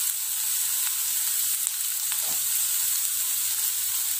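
Chopped onions sauté in a pan for butter chicken masala, giving a dense, even, continuous sizzle heard close up with a few faint scrapes and no talking.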